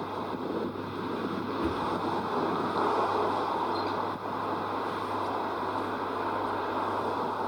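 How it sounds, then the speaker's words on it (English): Strong wind blows outdoors on a city street, a loud continuous roar buffeting the microphone without letup. "This wind is picking up."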